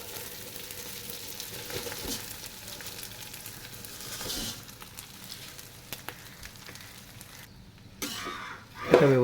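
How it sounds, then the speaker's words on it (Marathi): Rice dropped into a hot pan with curry leaves over low gas, a soft continuous sizzle with faint scraping and stirring, ending in a brief louder clatter. "आता मी गॅस पूर्ण बारीक केला आहे आणि याच्यामध्ये मी टाकते तांदूळ"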